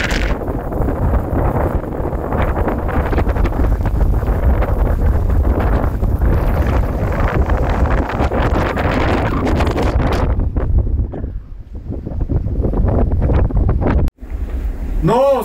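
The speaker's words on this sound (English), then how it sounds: "And now it's very, very windy." Strong wind on Mount Elbrus roars and buffets against the microphone in heavy, rumbling gusts, briefly easing before a sharp interruption and a faint voice near the end.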